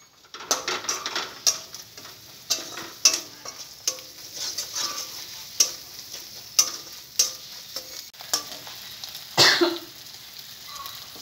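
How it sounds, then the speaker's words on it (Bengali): Spices and dry chilli powder frying in a pan for khichuri, with repeated scraping stir strokes over a steady low sizzle, plus a brief cough near the end. "দিয়ে দেবো একটু শুকনো লঙ্কা গুঁড়ো, দিয়ে একসঙ্গে মশলাগুলো ভালো করে কষিয়ে নেব।"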